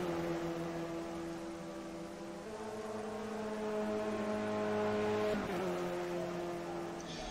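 Clio Cup race car engine in Project CARS drones steadily from close by, its tone holding, rising through the rev range and dropping sharply at a gear change before climbing again.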